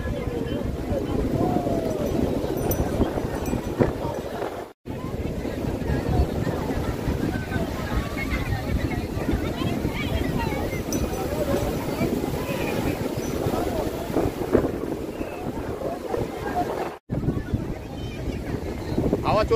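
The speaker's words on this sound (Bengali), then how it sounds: "হাওয়া চলছে আর ঢেউ হচ্ছে ব্যাপক।" Strong wind buffets the microphone at Chandrabhaga beach near Konark while rough sea waves roar continuously, a steady loud wash of noise with brief dropouts.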